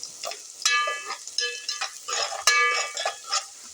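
Onions frying over a low flame in a pan while being stirred, a soft sizzle broken by repeated metallic scrapes and clinks of the spoon against the pan, close by with no talking.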